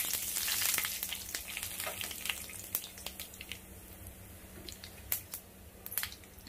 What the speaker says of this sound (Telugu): ఆయిల్ కాగిందండి. 1 స్పూన్ జీలకర్ర,